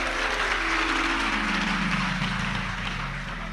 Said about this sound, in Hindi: ये ताली बजाने से कुछ नहीं होगा।